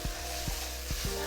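Beef goulash frying in a Dutch oven, a close, steady sizzling hiss with a few soft regular thumps from stirring over a brief moment, no voices.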